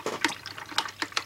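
A size 10 curved flat brush swished in a cup of rinse water during acrylic tole painting, giving a few short, soft splashy sloshes close by with no talking.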